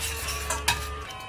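Butter sizzling as it melts in a hot pan, a steady close fizzing hiss with a couple of sharp utensil clinks against the pan partway through.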